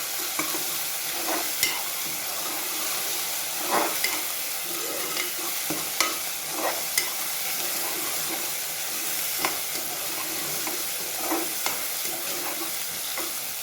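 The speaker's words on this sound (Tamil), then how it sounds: "நல்லா வெங்காயம், இஞ்சி பூண்டு பேஸ்ட்டு நல்லா கிளறி விட்டுட்டோம்." Onion and ginger garlic paste fry in a pan with a continuous bright sizzle, while a spoon stirring through the mix scrapes and clicks at irregular intervals.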